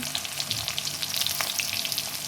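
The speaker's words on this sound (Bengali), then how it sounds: "আলুটা এখন আমি ভেজে তুলে রাখবো।" Diced potatoes frying in oil, a dense continuous crackling sizzle heard up close and alone.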